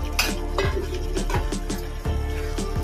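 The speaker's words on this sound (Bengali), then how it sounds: "এবার ভেজে রাখা আলুগুলো দিয়ে দেবো।" Fried potatoes tipped into a pot of chicken curry, a run of sharp clinks and knocks of spoon and metal against the pot over a faint sizzle, close and fairly loud, with no speech.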